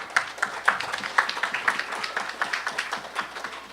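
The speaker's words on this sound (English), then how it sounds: "Give them a regal round of applause." Audience applause at a preschool opening ceremony, a steady patter of claps from a modest crowd that holds evenly for several seconds.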